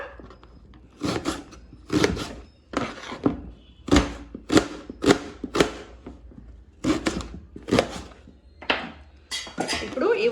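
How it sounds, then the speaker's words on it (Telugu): A knife chops a large onion into pieces on a board, a dozen loud, close, evenly spaced thuds with short pauses between them, while a voice talks faintly. "ముందుగా ఉల్లి కారం కోసం నేను ఒక పెద్ద సైజు ఉల్లిపాయ తీసుకుని దీన్ని ముక్కల్లా కట్ చేస్తున్నాను"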